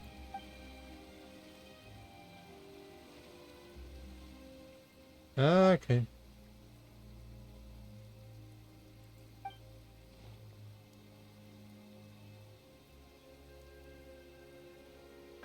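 Soft, steady rain patters on surfaces in the Genshin Impact game world, faint and continuous under a brief spoken word and a short burst of louder voice.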